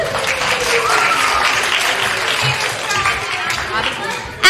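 Crowd applause at a Shabbat service for teachers, continuous full-room clapping with a murmur of voices mixed in, ending in a sharp louder burst at the very end.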